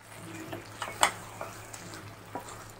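Fried pointed gourd pieces are stirred into a gravy in a pan, with quiet scrapes and a few light clinks of the spoon over a low, gentle sizzle.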